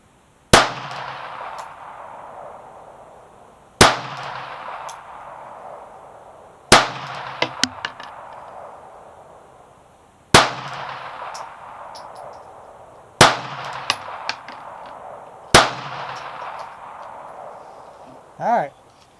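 A Kel-Tec P-32 ACP pistol fires at an outdoor range: six sharp, loud single shots several seconds apart, each followed by a decaying echo, with faint clinks between shots and a brief voice near the end.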